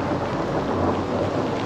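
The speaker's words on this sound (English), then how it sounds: "we're standing outside in the middle of a thunderstorm with lightning and rain." Thunder rumbles through steady rain during a thunderstorm outdoors, with light hail reported. The downpour hisses loudly and continuously, and a low roll of thunder runs beneath it.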